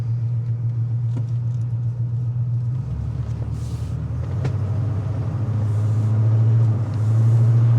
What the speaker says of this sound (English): Transmission shifts nice and smooth. Shifted into third beautifully.